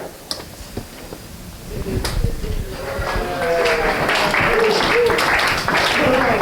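Lions club members and guests at a meeting applaud to welcome a speaker, clapping growing from scattered taps into a sustained, fairly loud round, with voices talking underneath.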